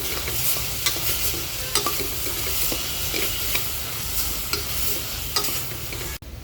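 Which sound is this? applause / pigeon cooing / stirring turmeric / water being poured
stirring turmeric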